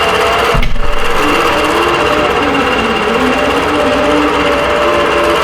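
A quilting machine stitches a dense spiderweb pantograph pattern across a lap-size quilt, making a loud, continuous mechanical whir with a fast rhythmic clatter up close and a brief thump near the start.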